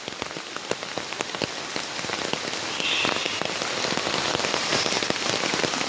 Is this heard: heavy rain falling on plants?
yes